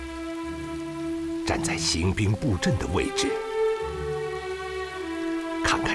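Heavy rain pours steadily outdoors, a dense continuous patter that runs beneath someone speaking in a period drama.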